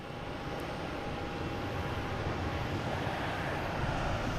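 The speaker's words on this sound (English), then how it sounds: "Iceland Air, flight 631 coming in from Keflavik." An Icelandair passenger jet arriving from Keflavik at Boston Logan airport produces a steady, distant engine roar that fills the whole stretch with an even broadband rush.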